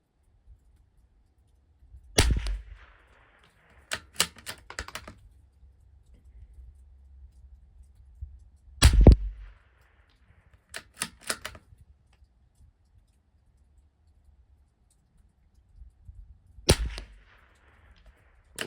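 A Savage Mark II rifle firing Eley Team ammunition at a 200-yard range gives sharp, isolated cracks several seconds apart, some in quick pairs, with faint handling noise between them.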